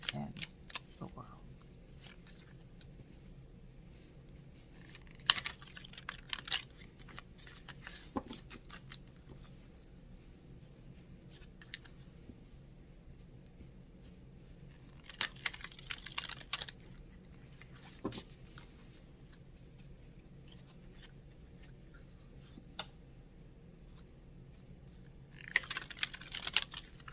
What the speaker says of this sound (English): Okay, so we'll shuffle, cutting the deck.